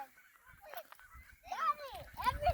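Gulls in a flock calling at a lakeside parking lot, loud honking squawks overlapping in bursts, with a voice and other people speaking nearby.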